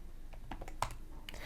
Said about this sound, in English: I've got a hardware keyboard connected, so I can just type in something like book 1, book 2